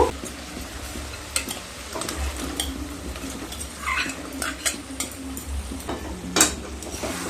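Fried elephant foot yam and potato stirred into cooked spices in a pan, with irregular scrapes and clinks of a spoon over a soft, steady sizzle, close and fairly quiet.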